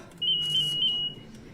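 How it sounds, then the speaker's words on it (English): A new latest-model pager gives one steady high electronic beep lasting nearly a second, loud and close over faint room noise. "False alarm. It's just my new pager."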